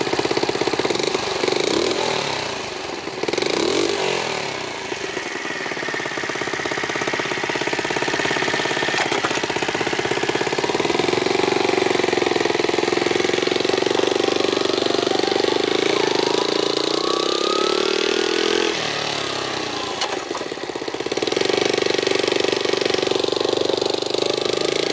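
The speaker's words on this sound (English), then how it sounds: "Just going to get a light cruise on it, give it some load" A vintage Honda CT70 mini trail bike with an 88cc big bore engine on a light cruise, its small single-cylinder motor droning loud and steady with gentle rises and dips in revs throughout.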